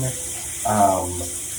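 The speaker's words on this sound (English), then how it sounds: "the water is running. The water is hot." Hot water runs from a tap in a spa wet room, making a steady hiss throughout with a brief louder gush partway through.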